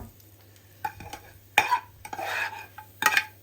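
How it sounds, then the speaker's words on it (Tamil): Roasted ingredients being stirred and mixed with semolina, with a few close scraping strokes and clinks of a spoon against the pan over a low background hum. "எல்லாத்தையும் போட்டு நல்ல வடிவாக ரவையோட மிக்ஸ் பண்ணிவிட்டு"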